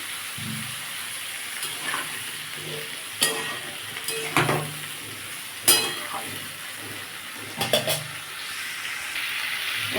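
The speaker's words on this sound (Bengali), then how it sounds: "সবজি একসাথে ভাজবো পেঁয়াজটাও দিয়ে দিলাম" Pointed gourd, pumpkin, tomato and onion fry together in oil for a fish-oil chochchori, a steady close sizzle broken by several clanking stirs of a spatula against the pan.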